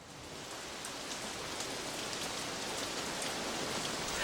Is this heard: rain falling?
yes